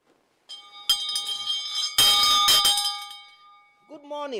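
A bright bell rings out with clear sustained tones, struck a couple of times and left to resonate, with a brief chime at the end.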